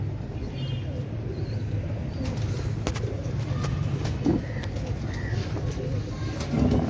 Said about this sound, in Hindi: ये अभी आपको हम शौक करवा रहे थे उस्ताद गज़नफ़र भट्ट साहब के जांगली कबूतरों का